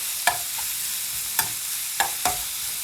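Tomatoes are stirred into a giant clam dish in a sizzling pan, a steady frying hiss broken by four sharp scraping clicks of the utensil against the pan.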